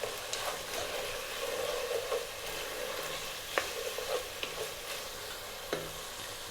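Chopped onion with mixed garlic and ginger sizzles steadily in a hot pan, with a few sharp clicks and scrapes as it is stirred close by.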